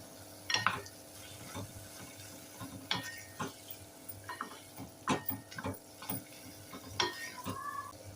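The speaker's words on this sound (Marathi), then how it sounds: "छान व्यवस्थित परतून घेऊया." Fried prawns being stir-fried for fried rice, a spatula scraping and clanking against the pan in irregular strokes over a soft sizzle, close and fairly loud.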